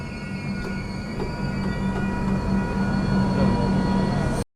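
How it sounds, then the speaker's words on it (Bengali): A Jalpaiguri Road–Sealdah Humsafar Express train standing at platform two of Ranaghat Junction, giving off a steady low rumbling drone with faint metallic squeals and knocks, close by and continuous, with no talking. "জলপাইগুড়ি রোড শিয়ালদহ হামসাফার এক্সপ্রেস ট্রেনের পুরো দু নম্বর প্ল্যাটফর্মে দাঁড়িয়ে আছে"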